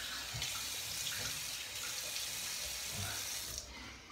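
Water runs from a bathroom faucet into a sink while someone wets their face before a shave, a steady soft hiss with low splashing bumps from hands, close and fairly quiet.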